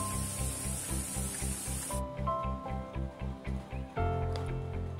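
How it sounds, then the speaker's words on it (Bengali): Onion paste frying in a pan with spices, a steady sizzle with a bright hiss that drops away partway through while the frying continues underneath. "এবার পেঁয়াজটাকে একটু ভেজে নেব, কাঁচা গন্ধ যতক্ষণ না যায়"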